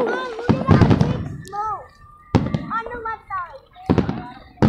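Fireworks burst and crackle several times, loud and fairly close, with children's excited voices and whistling squeals between the bangs.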